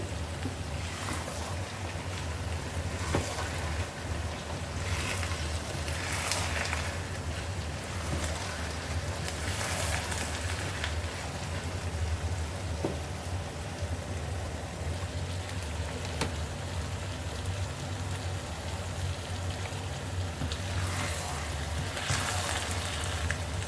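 Garden egg sauce simmering and sizzling steadily in a pot as it is stirred, a continuous close, moderately loud frying hiss with faint scraping, no voices.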